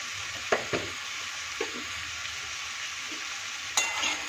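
Vegetables with salt and turmeric stirred and fried in a pan for a Bengali vegetarian summer dish: a steady close sizzle with a few sharp scrapes and clanks of the spatula.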